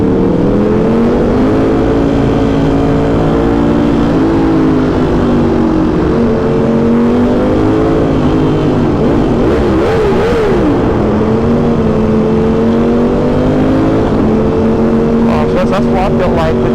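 Motorcycle fitted with a CompWorks exhaust revs repeatedly, its loud engine note climbing and falling in waves for about seventeen seconds, with a sharp burst of throttle near the middle and another toward the end.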